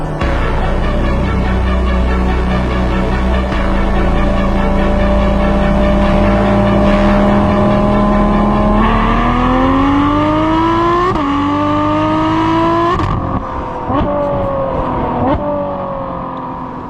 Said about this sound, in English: This is the Sport Cats in the front, the X-pipe in the middle, and the Sport rear muffler.